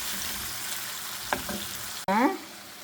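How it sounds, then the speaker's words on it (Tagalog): Flour-coated meat frying in a home kitchen pan, a steady close sizzle with a few brief stirring clatters, then a sudden louder hiss as more goes into the pan. "At hayaan ko muna siyang maprito dito ng konti"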